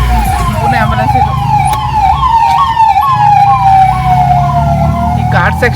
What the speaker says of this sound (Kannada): 3ನೇ ಆಂಬುಲೆನ್ಸ್ ಇದು.